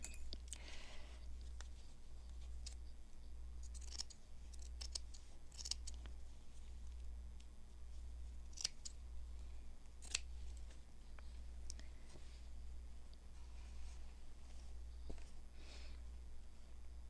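Scissors snip through soft blue fabric in a quiet room, giving faint intermittent cuts over a steady low hum.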